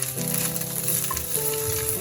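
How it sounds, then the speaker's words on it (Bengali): Morola fish frying in a pan, a loud, close, unbroken sizzle with popping oil and faint shifting tones underneath, and no voices. "মাছগুলো আগে একবার উল্টে দিয়েছি, আবার দেখি ভালো করে ভাজা হয়ে গেছে"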